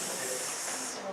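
A short, steady sizzle of a hand searing against the hot metal handle of a shovel left partly in a fire, a continuous loud hiss with no break.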